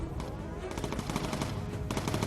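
Bomber gunners fire machine guns in the video game Bomber Crew, dense continuous rattling bursts of rapid gunfire with a short break midway, loud and up front.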